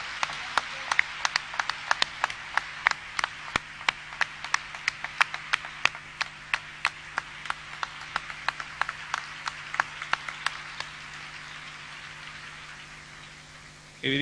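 An audience at a talk on poetry, music, wine and food claps in a slow, steady rhythm: sharp, evenly spaced claps, fairly soft and a little distant, that thin out toward the end.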